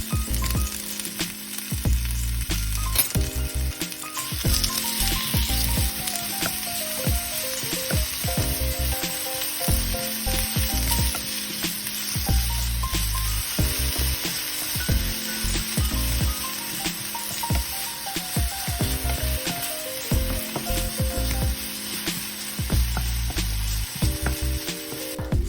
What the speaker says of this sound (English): In a large skillet, heat the olive oil over medium heat. Add the onion and saute until tender.